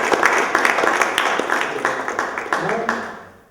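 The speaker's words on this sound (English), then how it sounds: "a big round of applause for Steve Bernstein" A press conference crowd gives Steve Bernstein a round of applause, a string of sharp, close claps that gradually fade out while voices talk over them.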